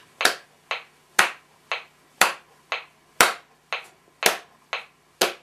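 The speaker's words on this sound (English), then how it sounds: "we can clap our hands to every other beat so we can hear it on the opposite beats" Hands clapping in a steady, even rhythm to a metronome, about eleven crisp, close claps at regular intervals with quiet gaps between them.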